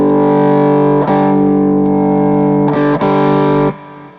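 Distorted electric guitar at full volume with the tone knob rolled up, ringing out loud sustained chords that change a few times before cutting off near the end.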